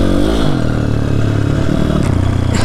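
A dirt bike motorcycle revs and accelerates on snow and ice, its close, loud engine climbing in pitch and rattling with clatter for a few seconds, with no voices.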